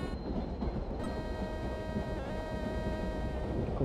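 A Rajdhani Express train in Indian Train Simulator rolls into Mumbai Central station at speed with a steady heavy rumble and a faint sustained tonal whine, loud and continuous without talk.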